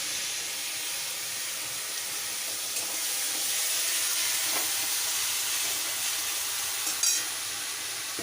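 Grated tomato hits a hot pan in a vegetarian kitchen and sizzles with a soft, steady hiss, faint and even, with a brief louder spatter near the end.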